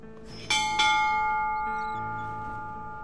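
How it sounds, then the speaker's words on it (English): A deep bell in the adventure game Yesterday Origins strikes twice in quick succession, each toll ringing out with a long, slowly fading hum that lingers to the end. "For whom the bell tolls."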